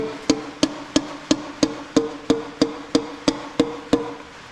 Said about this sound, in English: Just gonna tap this down with the back of the hammer.